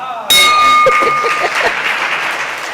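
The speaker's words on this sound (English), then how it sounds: "he wants to ring a bell on your behalf." A single bell struck sharply at a Rotary Club meeting, ringing out with a bright clang and a sustained, slowly fading tone, followed by scattered applause and murmuring in the room.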